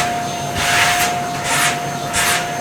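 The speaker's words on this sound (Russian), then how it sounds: "Работает пылесос" A household vacuum cleaner runs with noise suppression switched off, giving a steady broadband whoosh and a thin constant whine, with the airflow surging a little louder in three brief swells.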